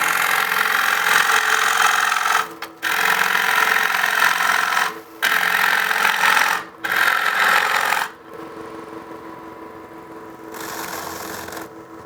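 A large gouge cuts a wet wooden bowl blank spinning on a lathe, giving steady loud scraping, shearing passes broken by short pauses, then a quieter hum of the running lathe near the end.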